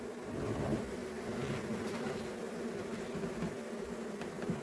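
Young honeybees are scooped into a new hive, giving a soft, continuous buzzing hum that stays low and steady throughout with no speech.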